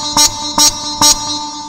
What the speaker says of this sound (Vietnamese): Đây là tiếng mèo nè.